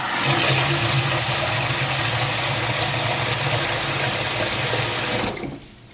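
Tap water pours steadily into a bowl for about five seconds as apples are prepared for canning, a loud, continuous rushing splash that cuts off abruptly near the end, with no talking.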